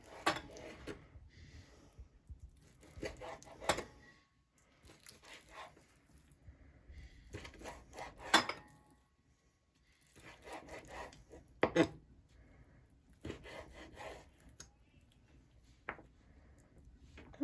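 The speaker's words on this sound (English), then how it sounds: "let's start chopping our chicken" A knife cuts raw chicken on a cutting board for a stir fry, giving quiet clusters of chopping strikes separated by short pauses.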